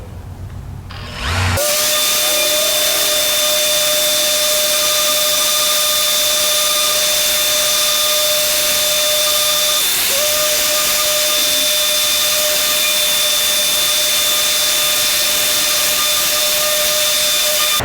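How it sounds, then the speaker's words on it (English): A power sander works steadily across a wooden serving board, a loud, continuous high whine with a sharp start after a quiet opening and a brief dip midway, running alone with no talk. "So now that we have our speed dialed in, let's sand our board."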